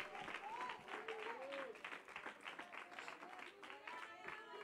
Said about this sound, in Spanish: Dele un aplauso al Señor, hombre